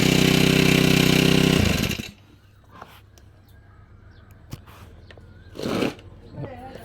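Honda GX35 four-stroke brush cutter engine running loud and steady up close for about two seconds, then cut off, leaving quiet outdoor ambience with birds and scattered speech.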